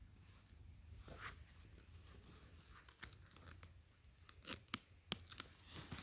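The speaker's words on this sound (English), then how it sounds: "Peel a piece of that off, cut it into a couple little strips" Duct tape is peeled off a roll and cut into small strips for fire starting outdoors: scattered sharp rips, crinkles and snips, brief and close, rising in a cluster near the end over a low background rumble.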